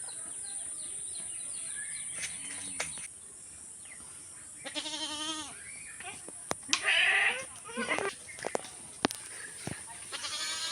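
Goats bleat several times nearby, loud wavering cries between pauses, with people talking and some birds in the background.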